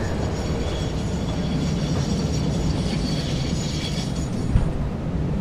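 A video-game train rolls along its line, a steady, loud rumble of wheels and carriage noise that holds evenly throughout, with one brief thump near the end and no voices.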